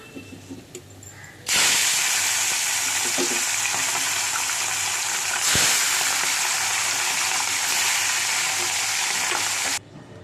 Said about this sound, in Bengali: এই করে আমি আরেক মাছগুলো ভেজে নেবো